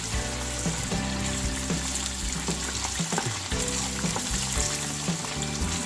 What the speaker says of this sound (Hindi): इसमें अब मैं थोड़ा पानी और ऐड करके अच्छी तरह भून लूँगी।